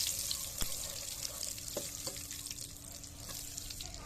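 Butter sizzles in a hot pan at the start of cooking spaghetti, a steady close crackle and hiss broken by a few sharp clinks of a utensil against the pan.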